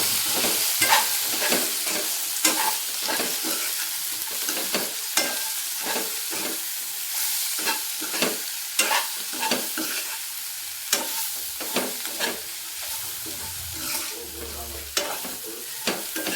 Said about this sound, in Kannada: ಇದು ಚೆನ್ನಾಗಿ ಫ್ರೈ ಮಾಡ್ಕೋಬೇಕು